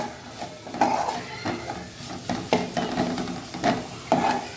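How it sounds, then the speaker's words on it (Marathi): Onion-garlic masala with red chilli powder is sautéed in a pan, with repeated close spoon scrapes and taps against the metal in an uneven rhythm over a low sizzle, and no speech. "कांदा लसूण मसाला एक चमचा टाकला मी तेही आपण मस्त परतून घेऊया"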